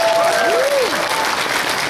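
Continuous audience clapping at an anime convention panel, a dense, steady wash of applause with a brief whistle-like tone rising and falling over it.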